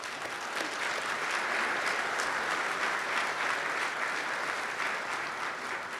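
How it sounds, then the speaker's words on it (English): A large audience at a mayor's men's breakfast in Newark gives a sustained round of applause for the governor, dense even clapping that fills the room for several seconds without letting up. "We want to give you a round of applause."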